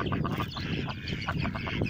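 Ducks on a Philippine diversified farm quack in a quick series of short calls, moderately close and fairly quiet against a soft background.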